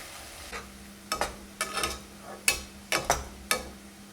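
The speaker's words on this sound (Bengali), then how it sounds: "ভাজার সময় পেঁয়াজটা অনবরত নাড়ব।" Onions fry in oil while being stirred constantly, a quiet background sizzle punctuated by a series of sharp scraping and clinking stir strokes at irregular intervals, with no speech.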